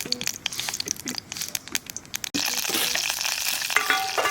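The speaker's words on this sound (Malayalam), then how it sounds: "അപ്പോൾ കടുക് കിട്ടും നമുക്ക് പൊട്ടിച്ചെടുക്കാം." Mustard seeds spluttering in hot coconut oil in a pan give quick crackling pops at first, then a dense, loud sizzle takes over for the second half, close and continuous.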